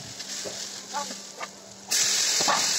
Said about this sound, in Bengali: এবার এগুলোকে ভালো করে নেড়ে কষিয়ে নেব